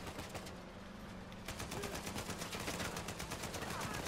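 Rapid automatic gunfire in Uncharted 4 comes in fast, even bursts that are faint at first and then grow denser and louder halfway through, continuing as a steady rattling barrage.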